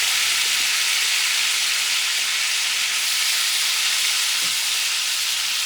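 Bison meat sears in a hot pan with a steady, loud sizzle and hiss that runs unbroken throughout, close up, with a couple of faint knocks.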